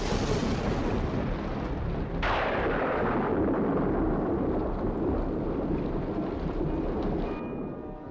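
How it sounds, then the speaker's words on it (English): Heavy rain hisses steadily as a deep thunderclap breaks and rumbles on for several seconds, then slowly fades. "The storm's really building up."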